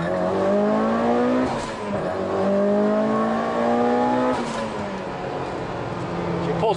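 An MR-SE car running on new suspension accelerates steadily, its engine note rising in smooth harmonic sweeps that dip and climb again around a gear change, loud and close throughout.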